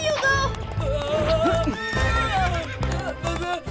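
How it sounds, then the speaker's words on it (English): A horse neighs and whinnies repeatedly at close range, with hoof clip-clops and a busy music bed underneath. "Need to find a way to calm the horse down."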